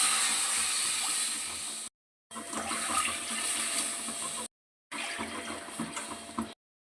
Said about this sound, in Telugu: ఈ కప్పుతో 3 కప్పులు నీళ్ళు పోసుకుంటున్నాం.